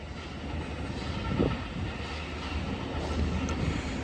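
Sydney Trains SSR locomotives 442, 17 and 04 roll past at St Marys station, a steady, dense rumble of engines and wheels on rail with faint clatter throughout.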